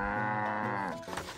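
A single cow moos loudly and close with a long drawn-out low call that trails off at the end.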